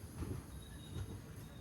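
A long-distance express train pulls into Guntur station, faint low rumble and soft wheel clatter heard from inside a carriage, steady and distant.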